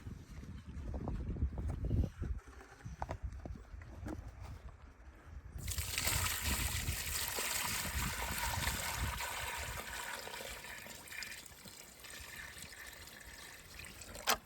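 Muddy water sloshes and trickles as it is dumped out of a pig's water container on a winter farm, then a steady pour of fresh water runs on with a bright, hissing splash.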